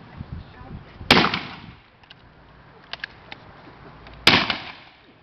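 Two loud, sharp rifle volleys at a shooting exhibition at Pluckley, the first near 1 s and the second near 4 s, each with a brief ringing tail. A few faint clicks and pops fall in the quieter stretch between them.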